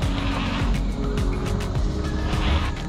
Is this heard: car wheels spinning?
yes